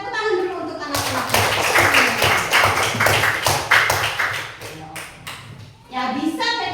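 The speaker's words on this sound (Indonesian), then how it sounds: "Tepuk tangan dulu untuk anak-anak." Children in a classroom clap together in a lively burst of rapid applause, with an adult voice speaking at the start and again after the clapping fades.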